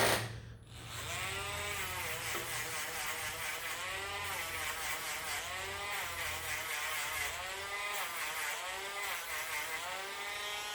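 Steady high-pitched mechanical whirring with a repeating rhythmic pulse, a small rotary tool lightly sanding a hammered silver ring made from a Morgan silver dollar, continuous and close.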